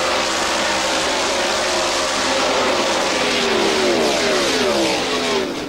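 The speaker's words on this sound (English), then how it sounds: "4 or 5 wide back there coming down the front straightaway, Paul." IndyCar race cars roar down the front straightaway four or five wide in a loud, continuous rush, engines whining and shifting in pitch as the pack speeds by.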